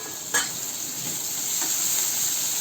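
Finely chopped onion sautéing in hot oil over a medium gas flame: a steady, close hiss of sizzling with one brief clink near the start.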